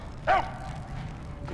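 Dinki-Di the dog from Mad Max gives a single short bark, sharp and fairly close, followed by a low hum of background ambience.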